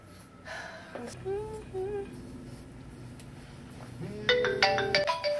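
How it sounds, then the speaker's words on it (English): Mobile phone ringtone chiming in a home, a melodic tone that sounds early on and then returns louder near the end, with faint breathing and vocal noises around it. "Your phone is ringing."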